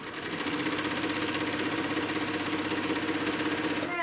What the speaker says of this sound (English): we're going to go, and we're going to sew